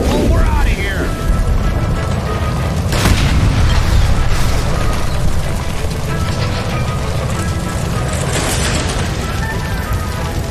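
A gas line exploding in L.A. Noire, with a heavy boom rolling into a sustained roar of fire and rumbling debris that stays loud and dense throughout, a second burst arriving later.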